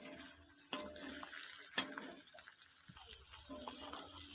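Fish frying in hot oil on a flat dosa pan, cooked village style, gives a steady soft sizzling hiss with occasional light crackles, fairly quiet and continuous with no talking.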